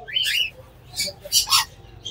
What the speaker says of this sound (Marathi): मकाव पक्षी